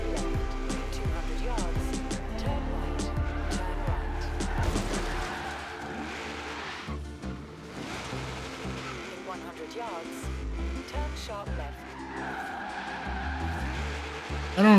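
A small Holden truck drives along a country race route in Forza Horizon 3, its steady engine drone with tire squeal and skidding running throughout under music and game sounds.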